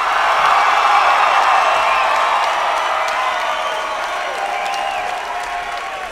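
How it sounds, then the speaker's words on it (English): A Houston comedy-show crowd roars for Larry the Cable Guy, with dense applause, cheering and whoops that hold loud and steady throughout and ease slightly toward the end. "Everybody, Houston, make some noise for Larry the Cable Guy."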